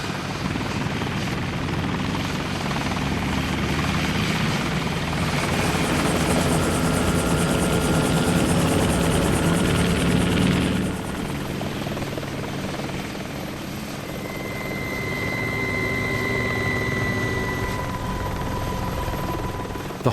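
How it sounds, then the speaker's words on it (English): A helicopter flying a daily wildfire patrol over a hot, dry river valley, its loud steady rotor thrum and whine filling the air, swelling and then easing off as it passes, with no voices. "Daily helicopter patrols keep a close watch out for any potential fires"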